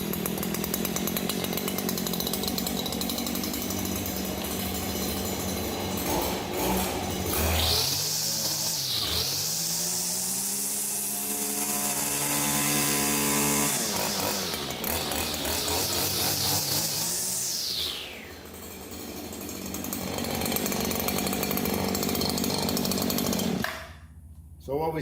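A Stihl FS 94R string trimmer's small two-stroke engine fires after a pull start and runs loudly and steadily, revving up twice to a high whine before settling back to idle, close to the listener with no talk over it.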